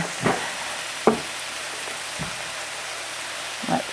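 Chopped vegetables for a breakfast hash tip into a pan of frying onions, bringing a soft continuous sizzle broken by a few sharp clacks of the utensil against the pan.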